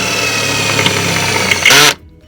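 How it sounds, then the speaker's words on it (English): A cordless drill with a 6mm bit, drilling after being sharpened, whines steadily at close range, surges briefly as it bites through, then cuts off abruptly near the end, leaving quiet. "that's drilled straight through wet there with a 6mm drill bit"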